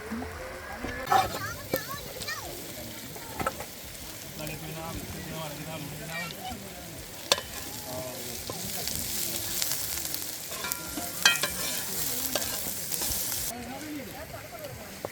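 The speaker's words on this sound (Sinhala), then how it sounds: "ගීති මෙතන සැමන් උයනවා." Canned salmon cooks in a pan at a campsite, giving a steady, moderate sizzle and frying crackle with occasional clinks and stirring, while people talk nearby throughout.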